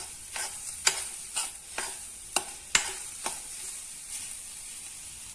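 A spoon scrapes and taps against a pan while papaya halwa is stirred, making about eight crisp clicks at an uneven pace over a soft, steady sizzle.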